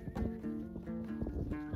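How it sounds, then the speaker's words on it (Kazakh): Horses out on a snowy winter steppe pasture give soft clip-clop hoof sounds and a faint whinny, moderately close, with no one talking. "Жан жақта сабылып жүрген жылқы."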